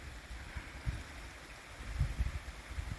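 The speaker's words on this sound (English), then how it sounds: "There's the creek that you've been listening to." A creek flows steadily with a low, continuous wash of water, punctuated by occasional soft splashes and gurgles nearby.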